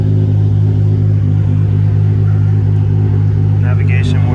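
A 2.8-litre Nissan R34 Skyline GT-R idles with a loud, steady exhaust rumble and engine drone, blipped lightly at low throttle while sitting still, with a brief higher tone near the end.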